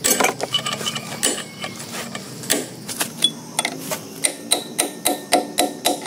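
A hammer drives a metal chisel to work a bearing loose during bearing repacking: close, loud metallic blows that settle into a steady, evenly spaced rhythm of about a dozen strikes, with some rattling in between.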